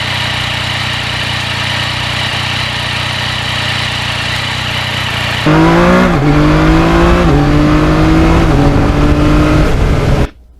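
Yamaha MT-09 naked motorcycle idling steadily, then accelerating hard through several rapid quick-shifter upshifts, each gear change a brief dip in the rising engine note, loud and close on a road ride.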